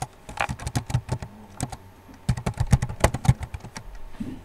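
Steady typing on a computer keyboard while entering an address into an invoicing form, many close, crisp keystrokes in quick uneven runs with a brief pause midway, no voices.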